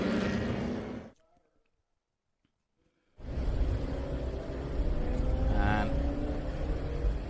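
Vintage Formula Vee race cars pull out onto the track at Circuit of the Americas. Their engines drone under a commentator's voice, cut out for a brief silent gap, then return as a steady, loud buzzing mix with faint revving.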